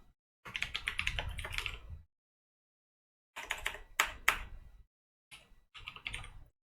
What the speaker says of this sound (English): Kind of hard to type with one hand here.